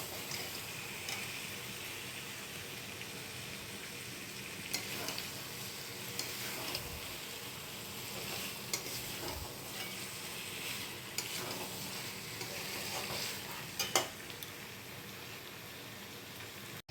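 A meat curry simmers and sizzles in a pan after water is added, with soft stirring scrapes and a steady bubbling hiss throughout, fairly quiet and with no talking.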